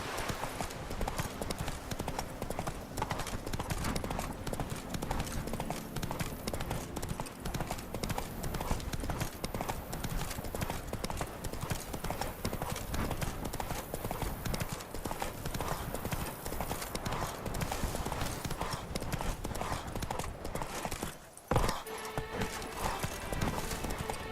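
A horse gallops in The Witcher 3 video game, steady rhythmic hoofbeats close and loud throughout, with a brief break near the end.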